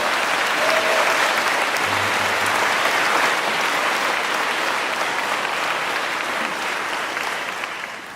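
Commencement graduates applaud in a large, steady round of clapping that fills the hall for the whole stretch, loud and dense, fading slightly toward the end.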